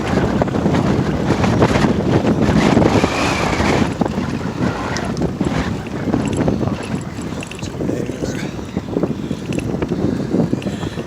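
Steady wind buffets the microphone throughout a bike ride beside Lake Coeur d'Alene, a loud continuous rumbling roar with gusty swells and no talk.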